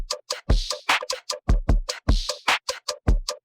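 Jersey Club drum loop produced in Serato Studio, played dry without any delay or double-up effect: punchy kicks and snappy hits in a steady, bouncing pattern, loud and alone with no talking.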